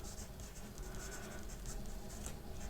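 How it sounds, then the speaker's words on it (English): A pen scratches out a quick handwritten note close by, a soft continuous scribble over a low steady background hum, with no talking. "I'm just going to write it down real quick"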